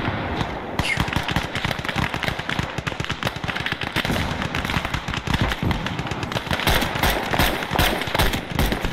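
Rapid, sustained anti-aircraft gunfire in the Gates of Hell war game, a dense stream of loud bursts and crackling shots, almost unbroken throughout, with a voice faintly heard underneath.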